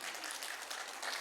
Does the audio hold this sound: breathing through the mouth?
no